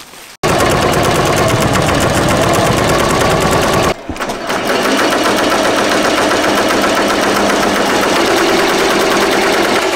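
A sewing or embroidery machine stitching applique hoodies runs in a fast, steady mechanical chatter, loud and close, with a brief pause midway before resuming its even rhythm.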